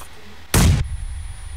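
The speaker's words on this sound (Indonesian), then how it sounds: "ada yang buang bom" A bomb bursts in PUBG Mobile on the Vikendi map, a single sharp loud blast lasting about a quarter second, followed by a faint rumbling tail and quiet background hum.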